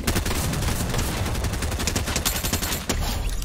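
Dense, continuous automatic gunfire from a Fortnite match, a loud unbroken stream of rapid shots with a brief dip near the end.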